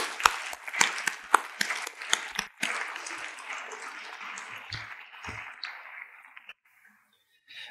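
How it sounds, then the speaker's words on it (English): Clapping from the crowd at a Model United Nations opening ceremony rises in distinct sharp claps, thickens into a full round, then thins and fades to a few scattered hands before stopping. "Please give them and everyone else who made this possible a round of applause."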